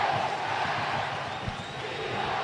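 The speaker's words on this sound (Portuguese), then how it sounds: "a torcida do Verdão tá gritando alguma coisa" Football supporters of Palmeiras shout together in the stands during an Icasa versus Pacajus match, a broad steady roar of distant crowd voices that continues throughout.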